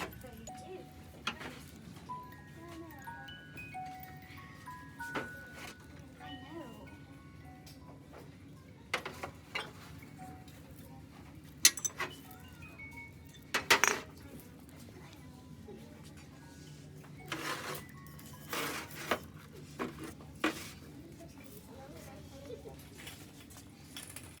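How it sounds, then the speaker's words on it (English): A musical box or musical figurine plays a few faint, thin plinking notes of its tune in a thrift store, under steady background hum and occasional louder clatter and talk. "I always have to check the musical boxes or the musical figurines to make sure they're working."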